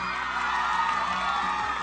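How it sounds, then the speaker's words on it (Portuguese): A crowd of girls screams and shouts continuously at an event where a footballer appears, a loud dense wall of shrill voices with no pauses. "Eu gosto desses gritos."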